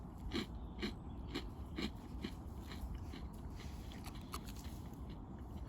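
Close crunching bites into dry, sweetened Italian army ration biscuits, a few sharp crisp bursts over steady low background noise, with breathing in between and no talk.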